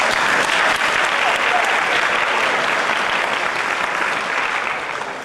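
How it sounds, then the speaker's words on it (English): Parents at a school band concert in Newton give a loud, full round of applause, a thick continuous roar of clapping that holds steady and only fades in the last moment. "I'd like to give yourselves a round of applause"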